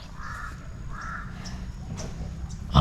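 Two crows cawing in short hoarse bursts, a few calls spaced across a couple of seconds, at moderate distance with faint background noise.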